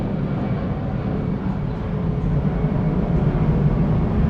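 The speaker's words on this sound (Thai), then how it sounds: "เมื่อกี้เสียงเครื่องบินดังมาก" A steady, loud low roar of an airplane passing overhead, rumbling continuously and building slightly toward the end, with no talking.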